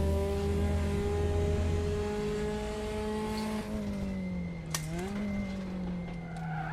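Front-engined four-cylinder Porsche 924-series race car in the RaceRoom video game, the engine droning steadily with layered harmonics, shifting pitch as revs drop and rise again, with faint tire noise underneath.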